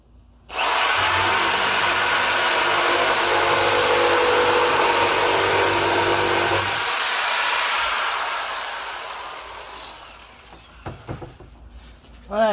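A jigsaw rips through a thin, flimsy board being cut for a leather plaque mount, a loud steady buzz running for about six seconds before winding down, followed by faint clatter and quiet handling near the end.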